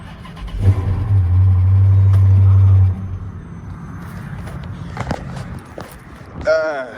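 A Dodge Charger police pursuit car's starter cranks and the engine catches, giving a loud, steady roar for about two seconds before settling into a quieter idle as people talk nearby.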